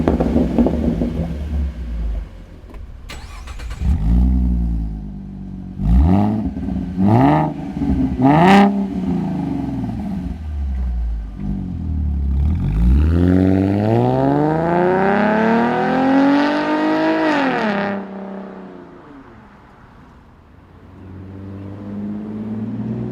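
A Ford Mustang V6 with a stainless steel Roush axle-back exhaust revs repeatedly with a deep, raspy exhaust note, several quick blips followed by a long climbing rev that drops back to a rumbling idle.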